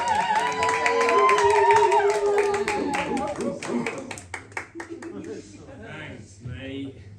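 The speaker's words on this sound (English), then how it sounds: "Round of applause." A comedy club audience breaks into clapping and a few cheers, loud at first and then thinning out into scattered claps as a voice starts talking.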